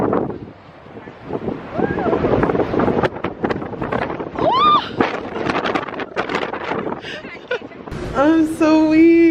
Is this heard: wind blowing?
yes